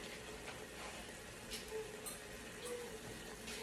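Chicken broth pours steadily into a pot nearby, a continuous splashing gush with small clinks, no voices.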